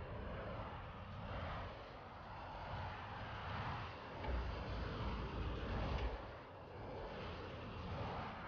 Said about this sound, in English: They have a plane up